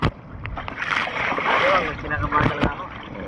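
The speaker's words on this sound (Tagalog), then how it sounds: "nabutan tayo ng malakas na alon" Water sloshes and splashes against a kayak in strong waves during a fishing trip, a steady wash of spray with sharp knocks near the start and around two and a half seconds, while people talk over it.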